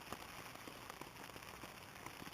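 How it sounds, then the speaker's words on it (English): Steady soft rain pattering on a surface, a dense continuous hiss with scattered small drops, fairly quiet and unbroken throughout. "not sure if you can hear, but it's raining."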